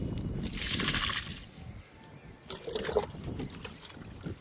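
Homemade liquid fertilizer poured onto a guava plant, a soft trickling and splashing of liquid into soil that fades midway, then resumes more faintly.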